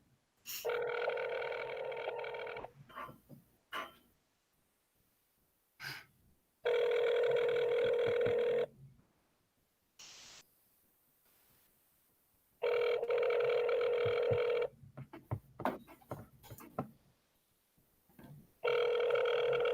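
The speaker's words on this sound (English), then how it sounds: "Can you guys hear the phone ringing?" A telephone rings repeatedly over a board of education meeting's remote call line, four long steady tonal rings evenly spaced with quiet gaps, clear and moderately loud, with faint room noise between them.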